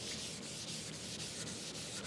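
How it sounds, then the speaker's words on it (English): Sandpaper rubs back and forth over a wood board by hand, fingers pressing behind it, in quick, regular strokes, a close, dry scratching with a steady rhythm and no voices. "So when I'm sanding with my fingers, I'm feeling behind it so I can feel any imperfections."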